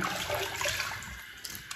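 Fresh water gushes from a tap before an after-shave step, a steady, fairly soft rushing stream that continues throughout with no voices over it.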